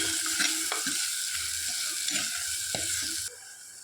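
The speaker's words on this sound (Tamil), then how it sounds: "எல்லாத்தையும் சேர்த்து நல்லா வதக்கிக்கலாம்." Onion and garlic sauté in oil for an eggplant kuzhambu, a soft steady sizzle with occasional stirring knocks, fairly faint and close, cutting off near the end.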